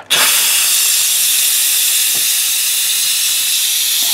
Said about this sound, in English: I'm going to come up here on the top and release the pressure